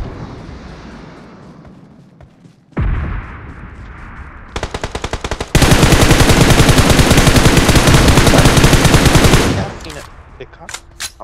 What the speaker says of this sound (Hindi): राइट वाले गन से मारोगे शिवम तो मरेगा, M4 से मर नहीं मरेगा।